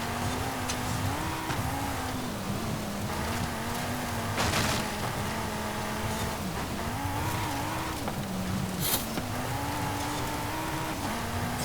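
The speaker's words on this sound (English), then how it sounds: "It's weird though driving a 3-litre inline 5 engine." A 2018 Audi TT RS with a 3-litre inline-five engine in Forza Horizon 5 drones steadily at high revs, with repeated shifts in pitch and bursts of tire noise while driving off-road.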